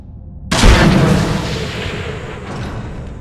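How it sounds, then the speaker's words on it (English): A green magical poof bursts out of a box in the Moon and Star mod for Skyrim Anniversary Edition on Xbox, a sudden loud booming whoosh that hits at once and slowly fades over a few seconds. "A green poof of magic will emit out of the box"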